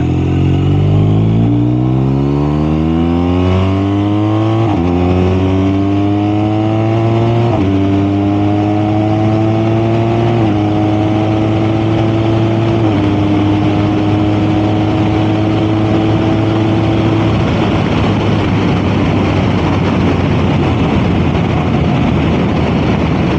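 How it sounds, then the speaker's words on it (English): A BMW R1250RS motorcycle accelerates hard through the gears with a quick shifter, its loud engine note climbing and cutting cleanly at each of several rapid upshifts before settling into a steady, windy cruise. "Let's check out this quick shifter here."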